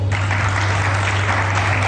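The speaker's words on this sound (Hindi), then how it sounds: "इसके लिए तालियां होनी चाहिए" Studio audience applause on a Hindi talk show, a steady, dense wash of clapping that holds evenly throughout with a low hum beneath.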